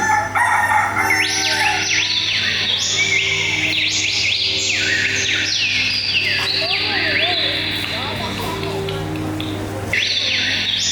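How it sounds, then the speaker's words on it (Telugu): Repeated rooster crows ring out loudly over a steady hum, with bright chirping tones overlapping throughout. "ఇంతలోపే కోడి కూతుతో నిద్ర లేవలసి వచ్చింది."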